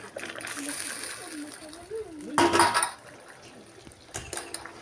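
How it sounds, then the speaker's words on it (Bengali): Fried eggs dropped into a boiling egg and potato curry in a pan, giving a brief liquid splash and sloshing amid simmering bubbles, with a person talking nearby. "এখন আমি ডিমগুলো দিয়ে দেব, ভেজে রাখা ডিমগুলো এখনই দিয়ে দেব।"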